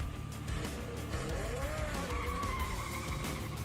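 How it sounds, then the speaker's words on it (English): A Nissan S15 drift car with a 2JZ engine skidding through a corner at a D1GP competition in Malaysia, loud continuous tire squeal over a roaring, revving engine, close and sustained. "This car sounds very, very aggressive right now."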